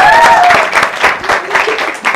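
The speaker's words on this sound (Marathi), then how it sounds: "जोरदार टाळ्या वाजू द्या." Audience applause at a haldi-kunku women's ceremony and prize contest in Kalwad, a dense steady burst of many hands clapping for about two seconds, fairly loud and close, with a brief tonal whistle-like sound near the start.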